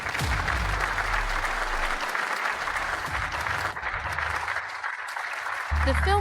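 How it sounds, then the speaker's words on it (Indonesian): Loud, sustained applause fills the room to welcome the three judges of a chef competition to their seats, a dense steady clapping with crowd noise and some voices underneath. "mari kita berikan tepuk tangan meriah untuk menyambut ketiga juri ke tempat duduk mereka"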